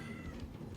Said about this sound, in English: you can hear my cat, he's so angry right now.